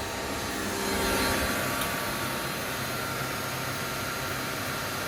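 The drum of a Miele Novotronic F63 washing machine spins fast during a repair, giving a steady broadband whooshing roar that stays loud and even throughout.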